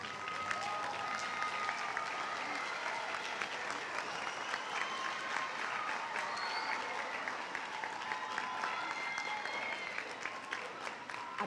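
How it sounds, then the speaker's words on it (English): An audience at a middle school moving up ceremony claps in sustained applause, a dense, even crackle of many hands that keeps going for several seconds before easing slightly at the end. "give a thunderous round of applause to the people who are in this audience who love you"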